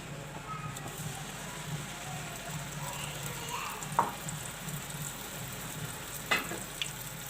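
Ground onions fry in oil in a pan for beef Sindhi biryani, giving a soft, continuous sizzle with a couple of brief clicks from utensils.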